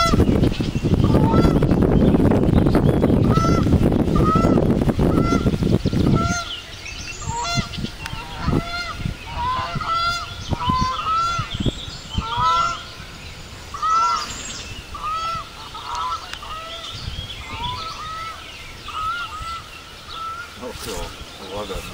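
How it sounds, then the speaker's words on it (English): A flock of geese honking over a pasture during a ride, with repeated loud, nasal honks after a few seconds of heavy rumbling noise, calls overlapping in an irregular stream. "We rode by that pasture where all those geese are at."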